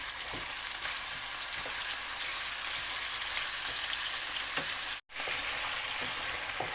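Chicken karahi cooks on a high flame, giving a dense, even sizzle close up for several seconds, with faint stirring and a very short break near the end, no voices.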